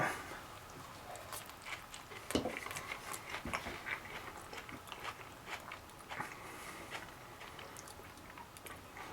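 Someone bites into and chews a homemade copycat Taco Bell Burrito Supreme, giving soft, moist chewing with a few crisper crunches, close to the mic and steady over several seconds with no talking.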